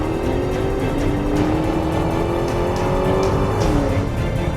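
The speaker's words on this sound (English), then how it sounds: "And that's the best possible launch this car can do at this surface." A Tesla launches hard on a low-traction surface, its electric motor whine rising steadily with tire and road roar, loud and continuous with no talking.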